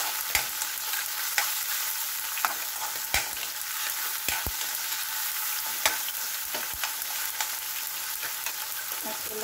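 Tomatoes and chili hit a hot pan for ginataang tilapia with pechay and mixed vegetables, giving a steady, close sizzle broken by sharp, irregular scrapes and clicks of a utensil stirring.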